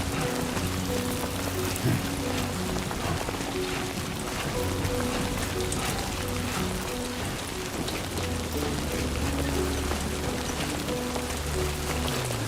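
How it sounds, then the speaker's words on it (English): Steady rain pours down in the video game Death Stranding 2, a dense, continuous hiss of drops hitting surfaces, with a low, sustained musical drone underneath. "Rain means the BTs are near."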